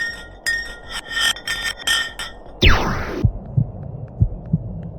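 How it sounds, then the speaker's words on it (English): A block of ice drops down a deep Antarctic borehole. Ringing, pulsing high tones give way to a sharp descending sweep, and the sound ends in low, spaced thuds like a heartbeat. "The pitches changed over the quick descent of the block of ice, ranging from high pitch and ending with a low heartbeat-like sound."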